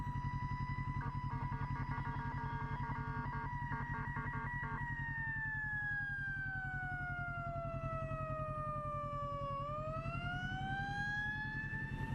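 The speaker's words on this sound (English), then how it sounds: "I hear sirens." A wailing emergency vehicle siren sweeps up and down, loud and close, over a steady low engine rumble from a 2017 Kawasaki Ninja 650 motorcycle, shifting from a rapid yelp to a slower wail.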